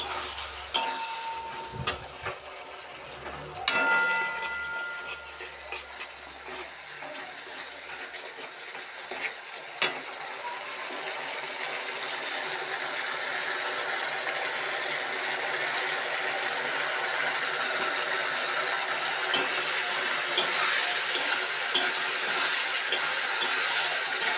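Ginger-garlic paste and spices being stirred in hot oil for an egg curry, a steady close sizzle of frying with scraping and clinking of a spoon against the pan, a few sharper knocks early on.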